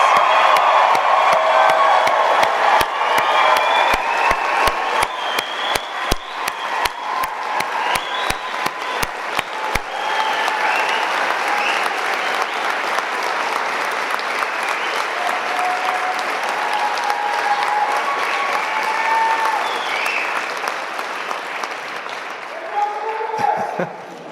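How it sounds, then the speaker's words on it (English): Audience applause for graduates at a university convocation ceremony, loud sustained clapping from a large crowd with cheers and whoops, sharp distinct claps early on, gradually thinning toward the end, with voices mixed in. "join me with a round of applause"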